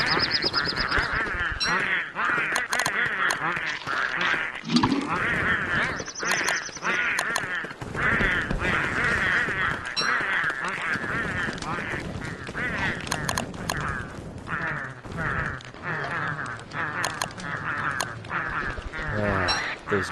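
Pengull birds in the game Don't Starve, a flock squawking and honking in rapid, overlapping bursts, loud and nearly continuous throughout.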